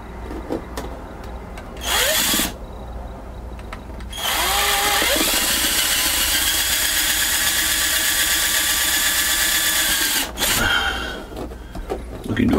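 A power drill whirs in short bursts, then runs steadily for several seconds before stopping, close by and loud, during a Thetford Tecma toilet switch repair.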